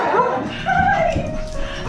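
A dog reunited with its owner after a year yips and whimpers excitedly at close range, high whining cries rising and falling over a short stretch, with human voices faintly mixed in.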